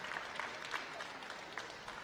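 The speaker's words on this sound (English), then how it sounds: "A ripple of applause." A soft ripple of applause comes from spectators at a 2019 freestyle swimming championship in Bonn. The clapping is light, distant and steady, with a few slightly sharper claps poking through.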